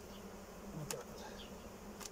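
Honey bees buzz faintly around an opened hive in a spring apiary, a soft steady hum with a few brief clicks and handling noises and no talk.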